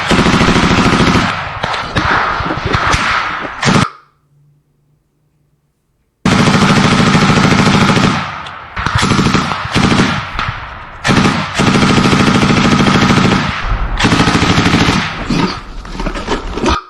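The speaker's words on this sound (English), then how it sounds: "The ground fighting, as you hear, gunfire." Ground fighting near Kreminna, Ukraine: loud, close bursts of automatic machine-gun fire rattle almost continuously, with a brief quiet gap before the shooting resumes in long, dense volleys.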